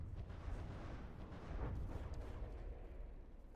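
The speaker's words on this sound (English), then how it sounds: "Missiles, torpedoes." Missiles and torpedoes striking a ship in the naval combat game From The Depths, a dense rumble of heavy booming impacts and explosions, continuous and low, with no speech.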